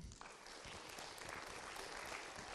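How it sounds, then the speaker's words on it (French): A steady wash of applause from an audience at the Geneva book fair, continuous clapping filling the whole stretch without a break. "On peut l'applaudir aussi."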